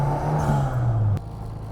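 A turbocharged, fuel-injected classic Mini Cooper engine runs loud and close in a steady low hum with a slight rise in pitch, then drops off abruptly partway through.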